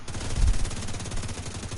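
Rapid automatic gunfire in a dense continuous burst from the shooter game Tom Clancy's The Division, loud and close with no talk.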